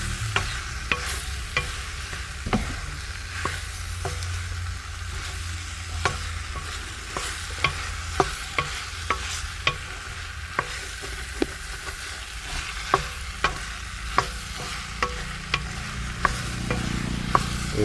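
Okra (vendakkai) frying in a pan for kara kulambu, a steady sizzle with regular sharp scrapes and taps of a spoon stirring against the pan, close and clear with no talking.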